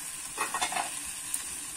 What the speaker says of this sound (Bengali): দিয়ে কিন্তু এবার আমি কষিয়ে নেব ভালো করে।